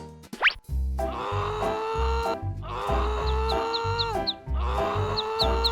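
A cartoon chick gives a series of short, high peeps over bouncy, rhythmic background music, the chirps arriving in quick little bursts.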